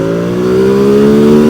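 A motorcycle engine revs hard under acceleration, its steady, close, loud tone climbing gradually in pitch with a deep, tractor-like rumble and no voices over it.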